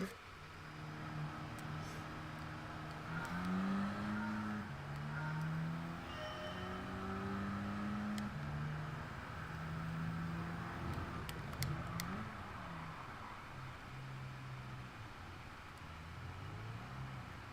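Race car engine in Gran Turismo 7 revving steadily, its pitch climbing and dropping through gear changes as the car corners slowly with understeer; someone talks over it.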